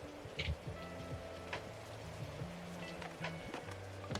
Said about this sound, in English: It's raining every single day.